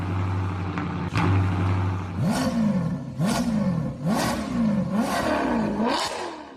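Custom-modded Subaru WRX STI in a racing video game, its engine revving hard in a repeated climbing whine, about five rising surges one after another after a steady idle, loud and close with no talk.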